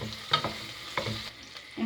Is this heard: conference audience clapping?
no